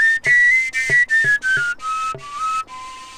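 A handmade traditional willow bark whistle, Scandinavian seljefløyte style, blown in a string of short clear notes with sharp breathy attacks, the pitch stepping and sliding downward across eight close, loud toots.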